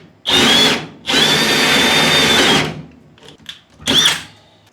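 A loud power drill boring through a wall whirs in two long bursts, then a short third burst after some clattering, close by.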